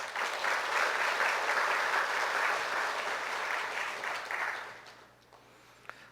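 A church congregation breaks into warm applause during a service, dense and sustained clapping that fills the room for several seconds, then fades out and dies away near the end.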